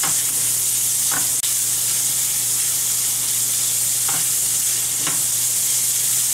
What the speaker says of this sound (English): So we're just going to let this go 2 minutes in a saute